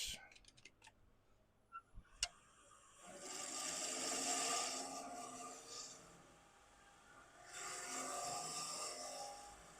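A woodturning lathe tool rounds over a spinning wooden workpiece, heard as two long scraping, rasping passes after a few sharp clicks at the start, fairly quiet and close.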